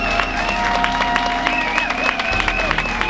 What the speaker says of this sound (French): une grosse main d'applaudissement